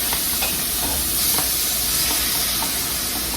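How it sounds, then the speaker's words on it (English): Shrimp and onion sautéing in a hot pan give off a dense, steady sizzle and hiss, loud and close, with faint stirring scrapes and no talk. "Now I'm sauteing the onion here. Now I'm adding the"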